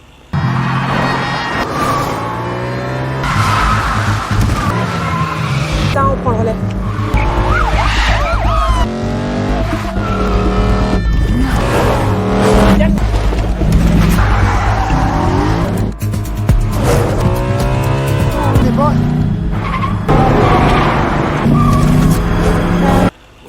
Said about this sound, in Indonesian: Dan terjadilah aksi kejar-kejaran yang memacu adrenalin.